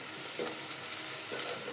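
Masala of turmeric and chili powder fries in a pan before the meat goes in, giving a soft, steady sizzle with faint stirring and no voices.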